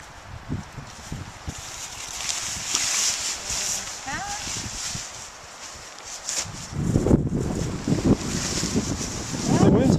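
Gusty wind buffets the microphone outdoors while a tipi tent is folded and packed, with fabric rustling and flapping in bursts and a person talking briefly.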